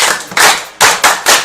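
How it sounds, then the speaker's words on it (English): Audience claps for a participant on a live TV show, with broadband bursts of applause surging in several waves, loud and close. "Clap for her."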